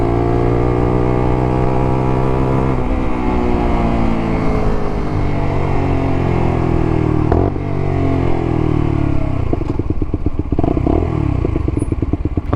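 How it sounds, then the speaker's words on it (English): A 2021 Lexmoto motorcycle with an idling fault runs up close, its engine chugging unevenly and dipping as if about to stall, with a few short blips of throttle and mechanical clatter toward the end, no speech. "So it's got an issue with idling."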